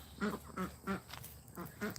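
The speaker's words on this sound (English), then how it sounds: "I know for sure that's a hen by her noises" A domestic duck hen quacks in a close, fairly quiet series of about five short nasal calls, evenly spaced and standing alone without talk.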